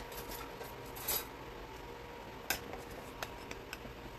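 Cornstarch and oil being stirred into homemade enchilada sauce for ground beef enchiladas, quiet close utensil scraping and a few light clinks against the pan over a soft steady background.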